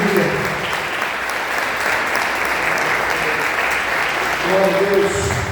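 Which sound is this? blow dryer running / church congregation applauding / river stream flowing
church congregation applauding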